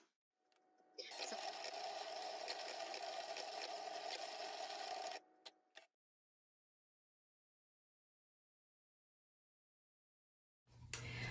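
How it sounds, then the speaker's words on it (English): A Cricut Explore 3 cutting machine cuts removable vinyl with a close, steady whirring hum for about four seconds. A few short clicks follow, then silence. "it's sending all the information to the cutting machine"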